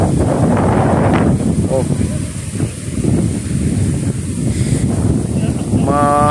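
Sea waves at Saud Beach in Ilocos give a steady, loud broadband roar mixed with wind buffeting the microphone, with a brief voice exclaiming near the start.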